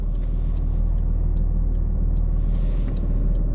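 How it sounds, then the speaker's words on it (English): A soft, steady turn signal ticks in a regular rhythm over the low idle rumble of a Porsche 911 GT3 RS engine inside the cabin. "Starting with simple things like the sound of the turn signal"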